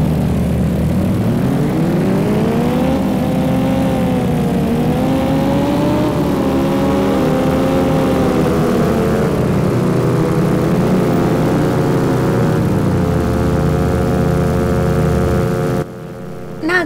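Motorcycle engine in the video game Geng M, a steady droning hum with gently rising and falling pitch, close and loud throughout, cutting out abruptly near the end.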